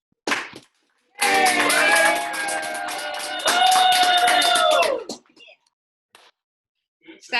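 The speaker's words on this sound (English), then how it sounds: "Clap it up, clap it up." Graduation audience clapping and cheering at a 2020 high school commencement, a dense burst of many hands lasting several seconds with voices shouting over it, then fading out to near silence.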